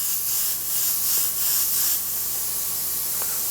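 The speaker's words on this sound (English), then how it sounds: "And we'll try spraying this color, which I hope is the final color." A spray can or spray gun lays down a coat of paint in a few steady hissing bursts, close and fairly loud, which then give way to quieter background hiss.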